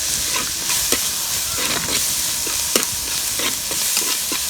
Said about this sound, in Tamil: வெங்காயம் தக்காளி வணங்குறதுக்கு கொஞ்சம் மஞ்சத்தூள் போட்டுக்கலாம்.